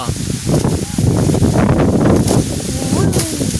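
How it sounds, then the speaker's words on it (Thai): Strong wind blows across an outdoor microphone in gusty, rumbling buffets, loud and close, with some rustling and brief bursts of noise over a few seconds. "คือลมแท้เนอะ"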